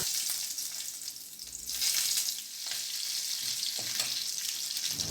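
Chana dal, urad dal and broken dried chillies hitting hot oil for tempering, a steady close hiss and sizzle with faint stirring scrapes, no voices.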